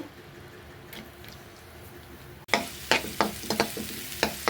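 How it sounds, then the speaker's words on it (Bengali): Onion drops into hot ghee and oil, and a soft background sizzle jumps to a loud, crackling fry punctuated by repeated sharp scraping stirs close by. "এখন এই যে ঘি দিয়ে দিচ্ছি তেলের ভিতরে, পেঁয়াজ দিয়ে দিচ্ছি"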